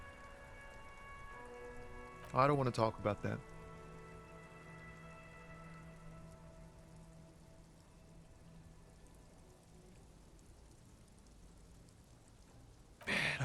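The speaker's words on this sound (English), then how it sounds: "Stuck in the rain in a traffic jam" Steady rain patters in the game Disco Elysium, a soft continuous wash running beneath a brief spoken line and a few sharp bursts early on, with another burst at the very end.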